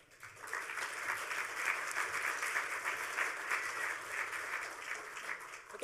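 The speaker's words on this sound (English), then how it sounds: "let's give these guys a round of applause." Sustained audience applause fills a conference hall after a talk at a hacker conference, steady and fairly distant, swelling slightly and holding for several seconds with no talking over it.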